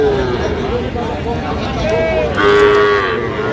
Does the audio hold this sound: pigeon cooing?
no